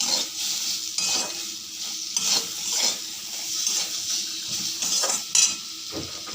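Katla fish pieces sizzle in a hot pan of oil as turmeric goes in, with a steady crackling fry broken by spoon stirs and scrapes against the pan.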